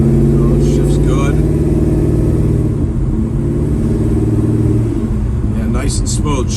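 A 1965 Chevrolet Chevelle drives with a steady, loud engine rumble through several gear shifts, the engine note dropping and rising again while people talk over it.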